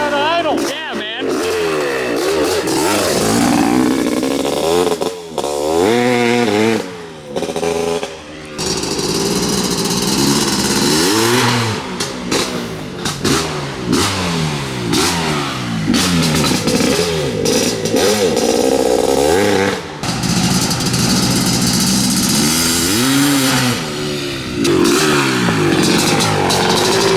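A cheap Honda CR500 two-stroke dirt bike engine runs loud and close, revving and crackling with repeated throttle blips, brief drops and surges for the whole stretch, with people shouting over it.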